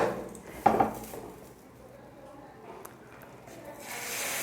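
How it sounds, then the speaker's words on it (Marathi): A plate is set down on a frying pan holding a cooking egg dish on a gas stove, a single brief clink of crockery on metal over a soft sizzle, with quiet talk. "आता काय करायचं, त्याच्यावरती एक प्लेट ठेवायची"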